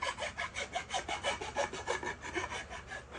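A hand file rasps along the taper of a Council Tool 3.5-pound Dayton-pattern axe head, in a steady rhythm of about five strokes per second, close and fairly quiet, with no talking.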